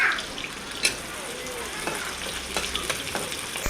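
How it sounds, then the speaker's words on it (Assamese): Onions frying in mustard oil in a pan: a steady, close hiss and sizzle throughout, broken by a sharp clink and a few light scraping stirs. "সৰিয়হ দি অলপ তেল দি লৈছোঁ। পিঁয়াজ দি লৰাই অলপ ৰঙচুৱাকৈ ভাজি"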